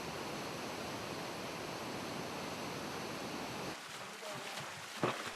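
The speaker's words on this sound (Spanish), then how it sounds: "El agua que fluye posee energía cinética." Broad, continuous rush of flowing water that runs evenly for several seconds, then abruptly drops away to a quieter background with a brief sharp knock near the end.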